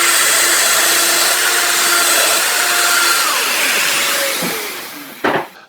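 A Festool Domino joiner with its cutter running whines steadily and loudly, its pitch sliding as it cuts a mortise, then winds down with a short thump near the end.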